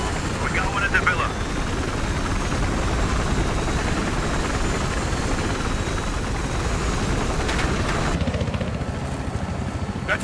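Transport helicopter in the video game Battlefield Hardline, a steady, loud rotor and engine drone throughout, with game action mixed in and people talking over it.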